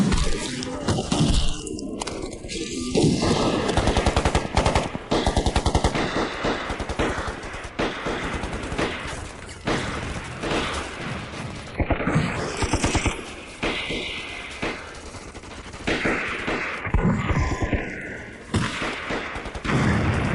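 Dense gunfire in an action film's fight scene, relentless rapid machine-gun bursts and overlapping shots with thuds and booms, loud and continuous throughout.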